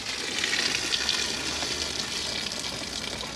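Liquid pours and gushes steadily from a tipped motorhome cassette toilet spout in a Globecar Summit 640 Prime, a loud continuous splashing stream with no talk.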